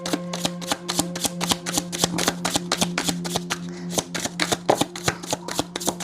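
Tarot cards are shuffled in quick, crisp riffles, a steady run of sharp papery flicks, close and fairly loud, with no talking over them.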